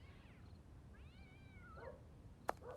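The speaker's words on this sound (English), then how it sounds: "So far we just hear cats yelling" Cats yowl in a town square in the Sherlock Holmes vs Jack the Ripper game, with several drawn-out, wavering meows at moderate distance over a steady ambient hush and a sharp click near the end.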